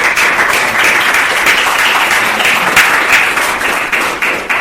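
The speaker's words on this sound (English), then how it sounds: "let's have a round of applause" Loud, close applause from the audience at a panel discussion on the crisis of neoliberalism, a brisk, steady wash of many hands that runs for several seconds before tapering slightly.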